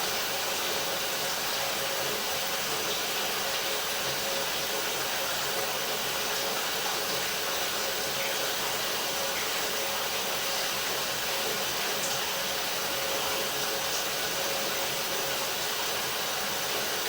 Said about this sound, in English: we are running water, and so it is escaping